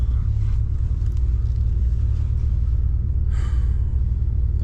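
A 1974 Ford Galaxie engine idles steadily in a low, continuous rumble that holds the same level throughout, with no voices over it.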